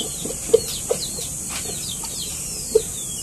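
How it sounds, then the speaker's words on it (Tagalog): A Japanese Shamo Red Gohan rooster gives a few short, separate clucks at moderate distance, over steady outdoor background noise on a farm. "So ito ay Japanese Shamu Red Gohan mga ka-farmers"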